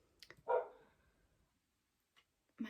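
A pet dog gives a single short bark, fairly close, followed by near silence and a faint sound at the end.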